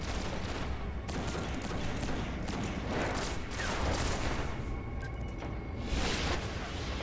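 Dense, continuous gunfire from a Destiny Iron Banner match, including Golden Gun shots, forms a steady barrage of overlapping bursts with brief whooshes throughout.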